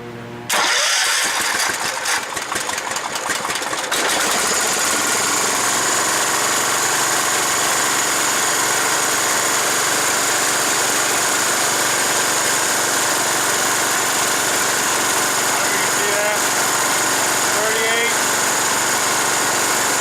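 A Cub Cadet 1200 lawn tractor engine starts with a loud clattering burst and settles into a steady, loud drone near full throttle, close by, with a brief voice early on.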